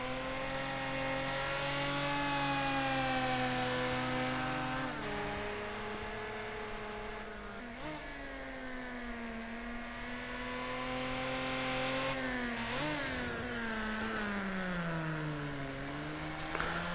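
Nissan Fairlady race cars scream around a circuit in the Twiggy Trophy, engines revving hard with rising and falling pitch as gears change, a continuous loud drone close by.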